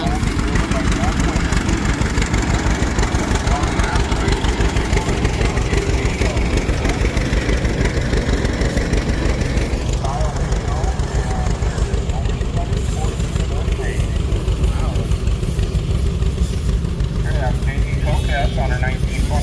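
A 1927 Rumely tractor engine rolls by in a threshing bee parade, a steady, loud low rumble with a rough mechanical chug lasting throughout, while voices talk over it.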